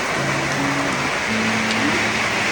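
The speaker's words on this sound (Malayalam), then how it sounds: "വേറെ ലെവലാണ് മഴ. മഴ മഴ" Heavy rain pouring down in a steady, dense hiss that fills the whole moment without any break, accompanied by a faint low hum.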